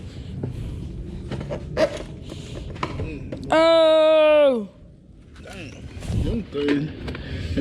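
A drawer in an abandoned storage unit full of old Radio Shack goods is pulled open with a drawn-out creak and scrape, heard between people chatting and exclaiming nearby.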